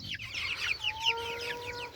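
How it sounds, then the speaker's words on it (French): Young chicks peep in their pen, a quick run of high, chirping cheeps that rise and fall close by, with a couple of longer whistled notes. "Là après j'ai 10 poussins."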